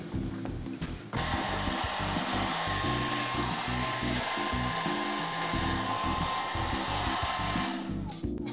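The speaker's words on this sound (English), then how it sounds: "So I'm going to blow dry right now." A hair dryer blows hair dry at a haircut demonstration, starting after a brief quiet moment and then running as a loud, steady, continuous whoosh close by, with no talk.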